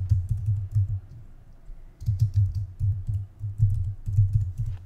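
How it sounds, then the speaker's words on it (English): Keys clacking on a computer keyboard while text is entered for a simple Swift 2 temperature converter iPhone app, a steady run of close, fairly loud keystrokes in short bursts with brief pauses. "I'm just going to type"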